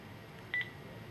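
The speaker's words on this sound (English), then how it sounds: "press the function key, then press the zero key" A Panasonic KX-WT125 cordless phone handset gives one short, faint keypad beep as a key is pressed, alone against a quiet room.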